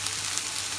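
Vegetables frying and being stirred in a pan, a steady close sizzle with faint scraping, continuous throughout.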